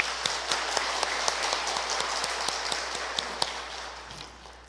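Audience applause in a parish hall at a Legio Mariae members' training session, greeting the parish priest: scattered, fairly soft clapping with a few sharper individual claps, steady for several seconds before thinning out.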